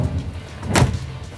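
A single dull thud of the door shutting on a 2024 Toyota Land Cruiser 78 Series, close and solid, with a brief rush of air and faint background hum, no talking.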